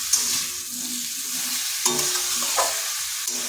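Potatoes and a tomato sauté in a pan, a steady close sizzle broken by occasional scraping stirs of a spatula.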